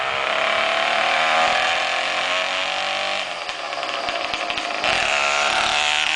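Small motorized bicycle engine, a custom three-speed build, running in first gear: a loud, buzzy, high-pitched two-stroke whine close by, dipping briefly midway before revving back up.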